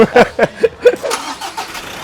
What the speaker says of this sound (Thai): เสียงเครื่องแบบนิ่มมาก